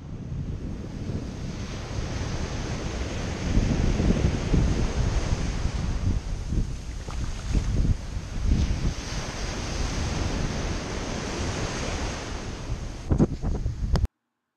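Ocean waves roll onto a beach in San Juan, Puerto Rico, a steady, full surf roar mixed with gusts of wind buffeting the microphone, with no voices throughout.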